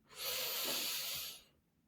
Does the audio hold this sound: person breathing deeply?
yes